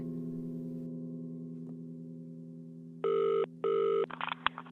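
A telephone rings in two long electronic bursts over a steady low hum, followed by short clicks as the receiver is picked up.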